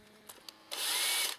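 A couple of light taps, then a small electric drill with a 2.5 mm bit whirs in one brief high-pitched burst of about half a second.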